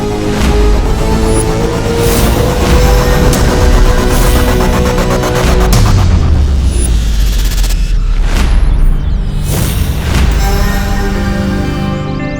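An atomic bomb blast effect from a superhero TV series plays as a loud, sustained roaring boom with whooshing surges and rumbling swells, running continuously with no pause.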